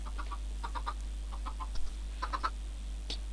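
Chickens cluck in Minecraft: a run of short, clipped clucks in quick bursts, some grouped in twos and threes, over a steady low background hum with no talking.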